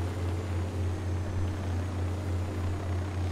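A helicopter in the video game Ghost Recon Wildlands drones steadily, a deep continuous rotor thrum with a pulsing low hum under a broad whoosh, unbroken for the whole stretch.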